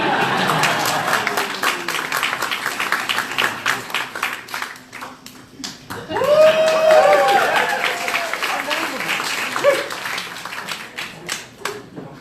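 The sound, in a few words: audience applause at magic show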